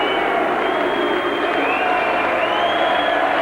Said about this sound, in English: Why they're booing Lewis, heaven alone knows.